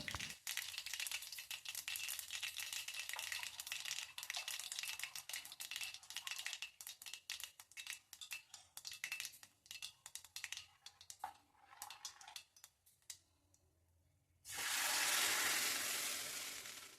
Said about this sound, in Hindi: मैं सिंपल सा राई ज़ीरे से तड़का देती हूँ।